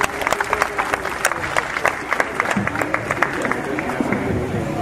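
Crowd applause at a public ward meeting in Mumbai, with individual claps standing out as sharp taps over a murmur of voices and background chatter, lasting several seconds.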